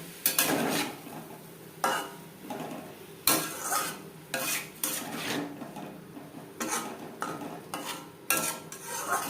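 Cauliflower and potatoes with spices being stirred in a pan, with repeated sharp scrapes and clanks of a utensil against the pan at an uneven rhythm over a faint sizzle, close and clear.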